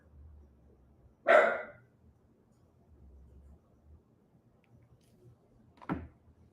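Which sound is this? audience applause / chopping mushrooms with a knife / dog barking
dog barking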